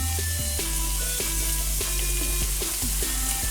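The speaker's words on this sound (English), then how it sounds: "And we're going to saute these vegetables." Vegetables sauté in a hot pan with pepper and curry seasoning for oxtails, giving a steady close sizzle with a low, constant hum underneath.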